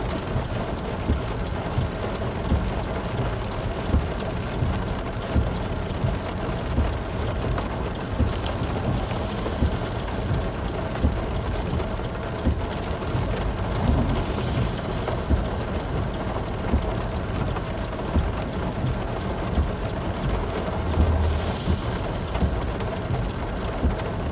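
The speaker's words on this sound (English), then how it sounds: "that storm Rochelle is definitely is a nice one now" A thunderstorm sweeping through Wisconsin during a tornado threat: steady, dense rain hiss fills the whole stretch, with a faint low rumble of thunder late on and no voices.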